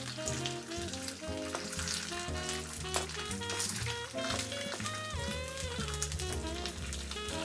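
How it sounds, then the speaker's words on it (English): Bacon and onions fry together in a small pan over medium heat, a continuous soft sizzle running under louder background music without pause. "cook the bacon and onions together in a small pan over medium heat. Start with the bacon so it releases its fat"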